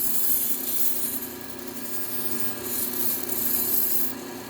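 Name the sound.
honing a Wusthof or Henkel chef knife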